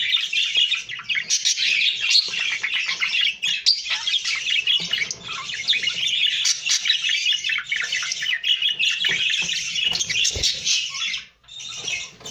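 Jumbo budgerigars, a mating pair feeding each other, chirp and chatter continuously and busily at close range, with sharp squawks and faint rustling and no talk over them.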